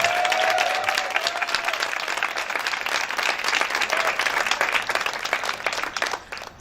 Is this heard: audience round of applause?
yes